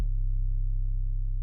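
A clean, undistorted synth sub bass holds one deep, smooth, steady low tone for just over a second, sounding alone with no other instruments or voices.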